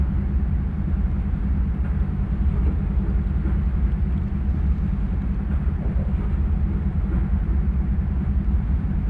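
A GE Dash 9 diesel locomotive engine in a train simulation game gives a steady low throbbing rumble at high throttle on a grade, continuous and even, with no talk over it.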